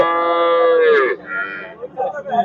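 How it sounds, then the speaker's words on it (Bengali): A calf gives a loud, close, drawn-out moo at a busy cattle market, followed by lower bovine grunts and murmuring livestock noise. "এই গরুগুলো সব বাছুর"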